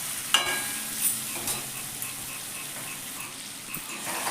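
Mango pickle with spices being stirred in oil over a low gas flame, a soft steady sizzle with faint scraping stirs and a few brief clinks, close by and quiet.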